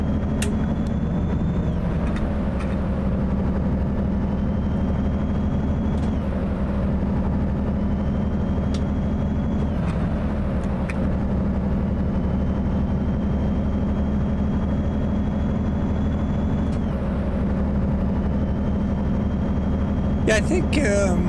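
Deep, steady drone of a Mack Anthem Black Edition truck engine in American Truck Simulator, loping at low revs with a few brief shifts in pitch, heard close and continuous while a person talks over it.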